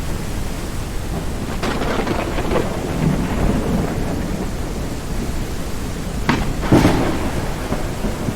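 A video game thunderstorm brings steady heavy rain hiss with rolling thunder and a couple of sharper cracks toward the end, loud and continuous with no voices.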